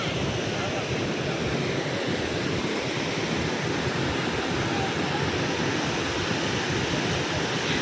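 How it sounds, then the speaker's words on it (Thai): Tham Phra waterfall in Bueng Kan, Thailand, roars as a steady, dense rush of falling water, loud and continuous throughout with no pauses. "ตอนนี้เราก็อยู่น้ำตกถ้ำพระ"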